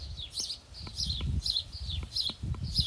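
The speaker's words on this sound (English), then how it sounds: "this is ASMR stream for people who don't get to hear birds like this all the time" Pet birds chirping indoors, a run of short, bright tweets repeating about every half second over a soft low rumble, close and moderately loud.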